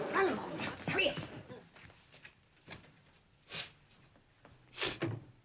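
A dog whimpers, snorts and sniffles in a home kitchen, with a cluster of whines at the start followed by short separate sniffs and snorts that come close and fairly loud, then quiet gaps between them.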